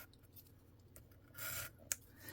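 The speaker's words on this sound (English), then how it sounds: "so that then I can get my scissors in there and fussy cut around these flowers" Scissors snip through paper while fussy-cutting around printed sunflowers, a few quiet close-up cuts with one sharp clipped snip near the end.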